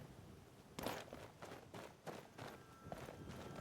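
Footsteps in the game Skyrim, a faint series of soft, evenly spaced steps on the ground, about five or six treads moving at a walking pace under a quiet ambient background.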